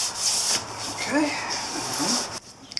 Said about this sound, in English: I'm going to finish sanding these down